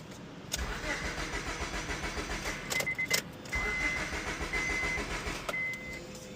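A car whose ECU fuse had blown cranks in bursts with brief pauses, then catches and settles into a running engine, heard close up with faint background noise.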